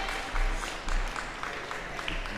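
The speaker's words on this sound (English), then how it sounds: "head off the court to the applause of the crowd" A crowd in a gym at a goalball qualifier tournament gives steady, sustained applause, dense clapping throughout with a few louder swells, while a voice talks faintly underneath.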